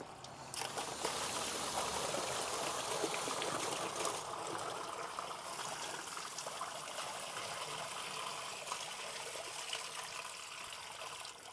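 Waste liquid pours steadily from a motorhome toilet cassette held tipped with its vent button pressed, a continuous close splashing gush running unbroken throughout.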